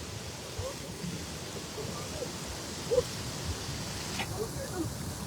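Steady rain falls outdoors during cast-net fishing, a continuous soft hiss with low rumbling underneath and faint voices in the background.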